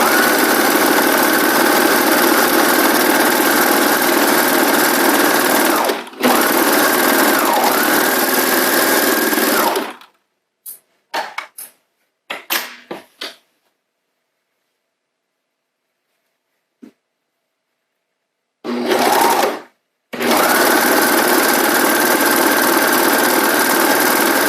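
A serger overlocking a seam on pajama pants runs as a loud, steady mechanical whir, breaks off for a few short bursts and a long pause, then resumes and runs on.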